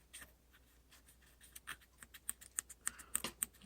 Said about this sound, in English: take the fiberglass pencil,